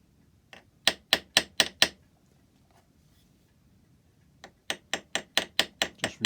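Small hammer blows riveting over a part of a cut cupboard lock for an antique clock: a quick burst of five sharp metallic taps, a pause, then another rapid series of seven, close and crisp with no talk.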